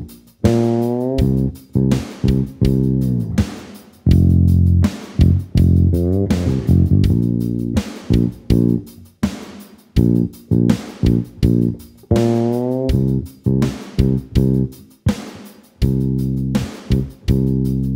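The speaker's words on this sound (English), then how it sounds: "the bass line from the intro sounds like this" A Squier Vintage Modified fretless jazz bass plays a soul ballad bass line in F, with smooth sliding notes and sustained low tones in a steady rhythm, close and clear with no voices.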